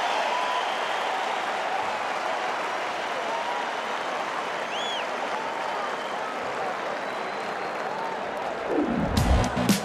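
Steady broad crowd noise fills a Nebraska football stadium at the end of the first quarter against Indiana, a continuous distant roar of applause and cheering that swells briefly near the end.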